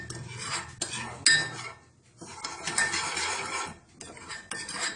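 A metal spoon clinks and scrapes against a mug while cocoa powder is added to a simple mug cake batter, irregular close clatters with brief pauses in between and no talking.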